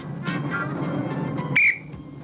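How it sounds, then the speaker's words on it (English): A referee's whistle ending a chip-in game on a 1983 Granada TV show blows once, loud and shrill, cutting over a murmuring crowd and background bustle before fading to quiet. "Here comes the whistle."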